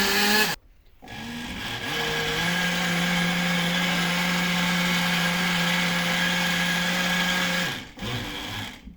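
Electric blender-style mixer whipping pancake batter for a layered crepe cake, a steady loud motor whine running for about seven seconds, starting and stopping abruptly with brief silences at either end.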